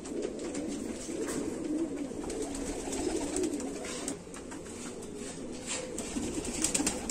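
Sheikho pigeons coo softly and steadily in a low murmuring drone, close by, with light scratching and fluttering sounds over it.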